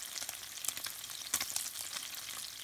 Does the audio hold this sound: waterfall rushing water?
no